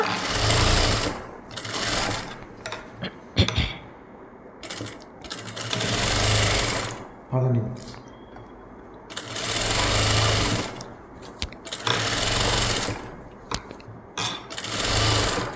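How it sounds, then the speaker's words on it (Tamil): Sewing machine running a double stitch along a blouse sleeve, in loud steady whirring bursts of one to three seconds separated by short pauses and handling clicks, close and with no speech. "இப்போது டபுள் ஸ்டிச்சு போட்டுட்ருக்கேன்"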